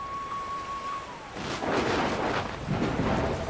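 Thunder rolling in during a rainstorm in the Dragon Quest Builders 2 video game, a thin tone fading into deep rumbling crashes with a hiss of rain, loud and continuous with no talk.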